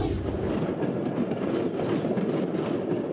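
A Queensland electric train rolls past in archival news footage, a loud steady rumble with rattling wheels on track, alone and continuous throughout.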